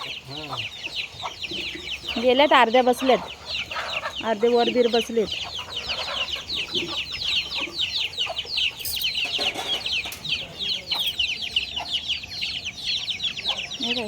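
Farmyard chickens cluck and murmur as they settle to roost for the night, a busy overlapping chatter with a few louder squawks, while people talk nearby.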